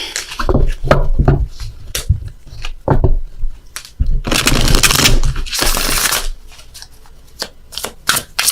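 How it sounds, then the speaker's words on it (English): Tarot cards are shuffled by hand close up, a run of crisp riffling bursts and soft slaps in uneven rhythm, with louder flurries midway and no talk over them. "so I gotta shuffle again."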